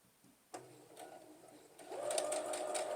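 A sewing machine stitches a quarter-inch seam in quilt fabric, starting quietly and then running in a steady, close whirring burst, with no voices.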